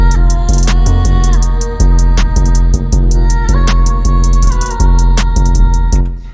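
A loud trap drum beat with booming low kicks, sharp snare hits and fast, rolling hi-hat patterns ticking on top, steady throughout.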